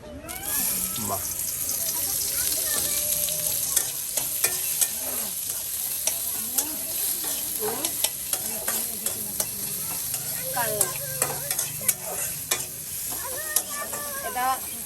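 Oil heats on a stove with continuous close sizzling and stirring, broken by clinks and scrapes of a utensil, while people talk over the cooking.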